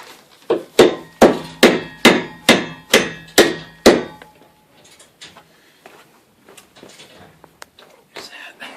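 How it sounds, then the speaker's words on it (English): Eight or nine sharp, evenly spaced hammer blows drive a bolt through to free a garage door spring, followed by lighter, scattered taps and soft shuffling. "I'm gonna pound this nail through, or this bolt through, and then we should be able to pull the spring out."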